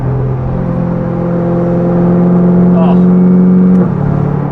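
A Chevrolet C8 Corvette with a full titanium exhaust and free-flow bypass, idling low while still warming up, hums with a steady loud drone that deepens and swells at about two seconds before dropping back near the end, close and continuous.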